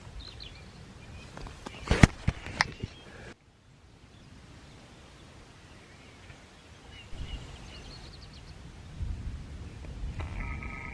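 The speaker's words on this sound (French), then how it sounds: "ça tonne" Thunder rumbles low and distant during a rainy storm at a camping bivouac, following a few sharp nearby knocks and then swelling again toward the end over a faint outdoor background.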